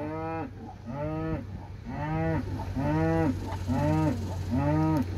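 Limousine cows on a farm moo again and again, six loud, drawn-out calls in a steady rhythm over a constant low hum, with no talking.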